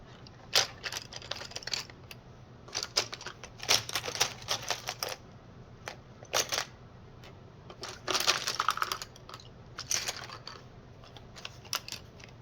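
Close-up brown crayon scratching on paper in short, irregular bursts of quick strokes, separated by brief pauses.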